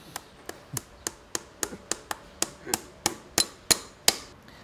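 Sharp metal hammer blows ring out at a steady rhythm, about a dozen evenly spaced strikes close to the mic, as a farrier fits a horseshoe made for hooves with contracted heels.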